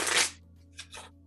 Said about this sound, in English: And then I'm gonna give it a good shuffle.